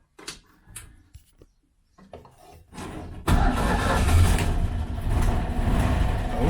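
A 1956 Citroën Azu, likely not driven since 1986, cranks with a few faint clicks and a brief churn, then catches and settles into a loud, steady engine run close by.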